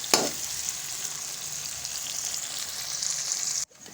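Steady sizzling of onion frying in hot oil, a continuous crackling hiss close by, starting with a brief splash and cutting off abruptly at the end.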